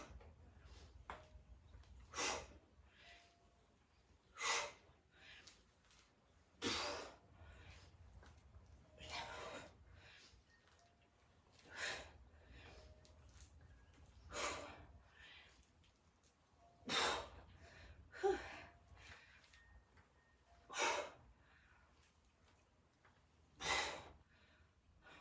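Heavy, rhythmic breathing during a lower-body weightlifting set, with sharp exhales repeating roughly every two to three seconds, close and fairly loud against a quiet background.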